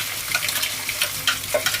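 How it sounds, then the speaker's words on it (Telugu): A soybean mixture frying with green chillies and cumin, stirred in quick scraping strokes against a continuous bright sizzle. "ఇప్పుడు అటు ఇటు కలుపుకుందాం."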